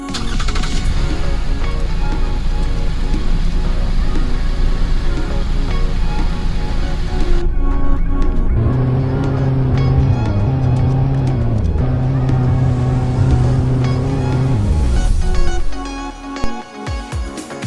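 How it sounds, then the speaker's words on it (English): A truck's engine starts up in the Roblox game Greenville, then settles into a loud, steady idle with a low drone that holds for several seconds before cutting off near the end. "you can actually hear the start of the truck"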